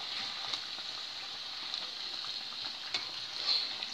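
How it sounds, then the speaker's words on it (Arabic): Rghifa, a Moroccan flatbread, fries in hot oil with a steady, close, bright sizzle, a hissing crackle that runs through the whole stretch with a few small pops and a slightly louder flare near the end. "مني كنقليوها وكتقلى تحمر لينا"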